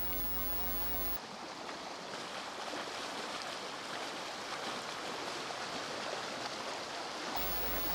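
Water rushing steadily through a man-made aqueduct near Jericho, a continuous broadband wash heard close and fairly loud, with no voices.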